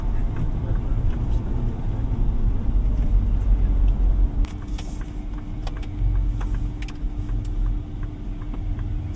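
Engine of a 2025 Ford Ranger Raptor with its 3.0 V6, heard from inside the cab while driving in normal mode, a steady low rumble with road noise, loud and continuous.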